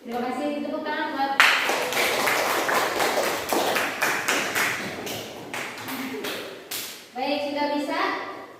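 Students clap their hands in a classroom during a maths lesson on linear programming, a burst of dense applause lasting several seconds with children's voices talking before and after it.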